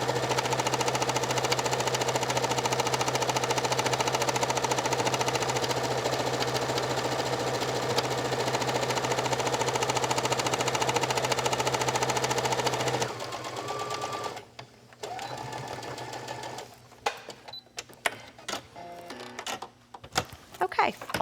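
A sewing machine runs in one long steady stitching pass around the outer circle of a round fabric jewelry pouch, loud and continuous, then stops and gives way to handling noises and brief clicks.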